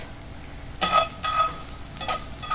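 Carrots and celery stalks sizzle in a cast iron pan, with a low constant fry broken by a few quick stirring scrapes, close up and with no voices.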